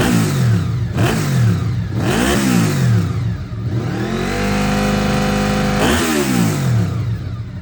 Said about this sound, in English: These bikes featured a V4 engine, which gives them a very unique sound.